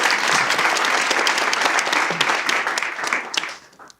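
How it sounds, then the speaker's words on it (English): A room full of people applauds steadily, dense clapping that holds strong for about three seconds before fading out. "Can we have a round of applause for Samantha?"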